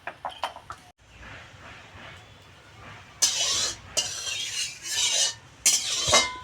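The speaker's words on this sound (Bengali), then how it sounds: "কড়াইতে এরকমের খুন্তি দিয়ে চারিদিক ছড়িয়ে দেব।" A metal spatula scrapes around a wok to spread white cooking oil. Quick clinks open the clip, then sharp scraping bursts follow in several close strokes. No one speaks.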